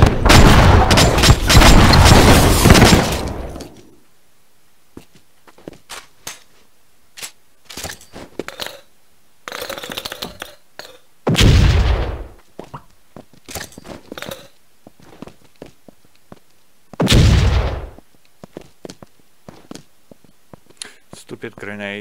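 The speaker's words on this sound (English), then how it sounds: "Stupid grenades." Grenade explosions in Enter The Matrix, a long loud blast followed by several separate booming bursts spaced seconds apart, with scattered quieter sounds and voices between them.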